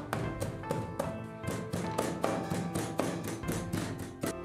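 Cleaver chopping skinned pork belly into mince on a chopping board, a fast, even run of sharp thuds, about three per second, close and steady.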